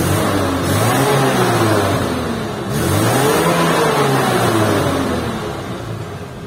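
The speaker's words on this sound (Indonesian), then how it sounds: "denger suara mesinnya" A 1995 Suzuki Escudo SUV engine revs up twice in steady rising and falling sweeps, loud and close, with no talking over it.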